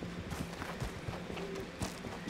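Horse hooves clip-clopping in Red Dead Redemption 2, a quick uneven patter of hoofbeats at moderate distance over a low ambient bed, no speech.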